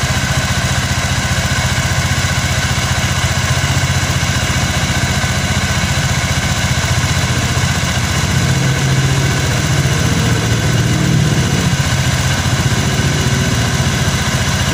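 An engine idles steadily during a CKP sensor check, a loud, constant close-up rumble with an even mechanical vibration and no speech.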